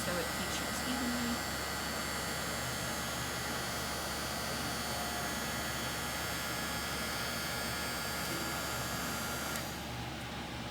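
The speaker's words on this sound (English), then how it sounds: "Apply my hot air. Give it a good rotation so it heat shrinks evenly." A hot air gun blows steadily on heat-shrink tubing over a drone's power cable. It gives a continuous, even whooshing hum with an electrical whine, close and unbroken, then eases slightly at the very end.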